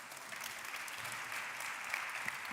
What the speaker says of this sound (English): I'd like a round of applause for our panelists.